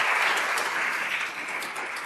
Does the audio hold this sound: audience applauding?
yes